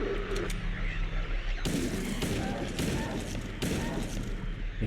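Gunfire in the Silent Hill 2 game on PS2 rings out as a few heavy, booming shots spaced about a second apart over a loud, dense game soundscape.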